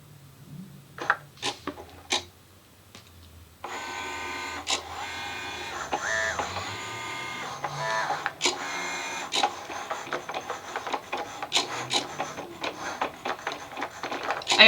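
Cricut Joy 2 cutting machine pulling vinyl under its guides: a quiet start with a few clicks, then a steady motor whir with rhythmic mechanical ticks and clatters, close up.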